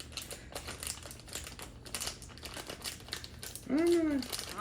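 Plastic packaging crinkles and crackles in a run of short, sharp bursts as it is opened close by, and near the end a voice speaks briefly.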